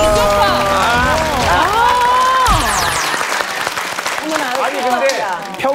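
Applause from a studio audience on a Korean TV show swells under overlapping excited voices, with music-like tones at the start, then steady clapping and chatter continuing.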